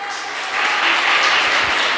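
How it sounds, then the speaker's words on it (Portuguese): Church congregation clapping to welcome a new member, a broad wash of applause that swells after the first half second and holds steady, with a voice faintly under it. "Dá uma salva de palmas"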